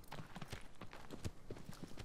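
Horse hooves clip-clop in the Shadow of the Colossus remake, a steady, uneven trotting rhythm heard fairly faint and close.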